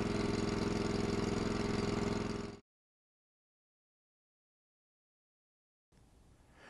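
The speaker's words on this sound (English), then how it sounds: "As the engine warms, slowly return the choke to the off position." A small engine on an Exmark aerator idles just after starting while the choke is eased off. The steady, loud close-up running sound cuts out after about two and a half seconds, leaving silence until a brief rustling noise near the end.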